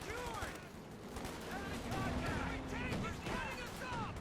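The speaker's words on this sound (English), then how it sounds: "Few shots fired there, most of them not quite hitting the mark" Scattered rifle and bazooka fire in a Company of Heroes 2 1v1 match, a busy mix of sharp shots and bursts over continuous battlefield noise, with a commentator talking over it.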